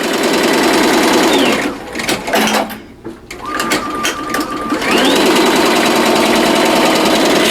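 A Tajima embroidery machine stitches a sketch design with a fast, steady mechanical whir and rhythmic needle chatter, briefly slowing and pausing mid-run before resuming at full speed, loud and close.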